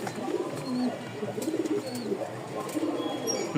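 Rajshahi Giribaz flying pigeons coo in soft, repeated low bursts close by, several calls overlapping amid faint background chatter and light rustling.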